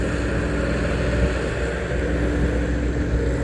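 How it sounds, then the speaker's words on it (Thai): Diesel engine of a backhoe excavator running at a work site in Krasang district, a steady low droning hum with even loudness throughout and no talk. "รถแมคโครก็ทำงานดีครับผม"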